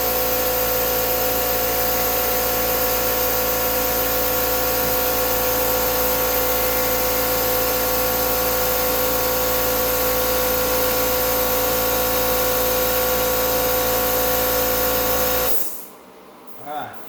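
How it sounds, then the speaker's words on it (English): An air compressor runs loudly with a steady mechanical hum and hiss for a long stretch during a 1940 Ford coupe hood repaint, then cuts off abruptly near the end. "I hope you guys can hear me over the air compressor."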